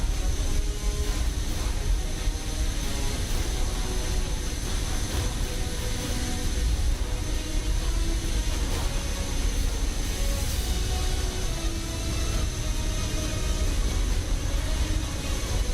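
Continuous loud jet engine roar from a DHL Boeing 777 passing behind in Microsoft Flight Simulator, a steady broadband rumble and whine with no talking.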